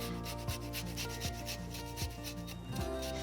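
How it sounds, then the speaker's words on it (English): A lemon is zested on a grater in a home kitchen, producing a close series of rhythmic rasping strokes with regular scraping pulses and no talking. "Then I'm going to add some lemon zest."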